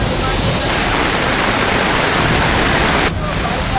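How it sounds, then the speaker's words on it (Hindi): Heavy floodwater rushes through city streets after torrential rain, a loud, steady broadband roar like a torrent, continuous throughout with a slight drop near the end. "घरों के आगे सड़कों पर तालाब बह रहा है।"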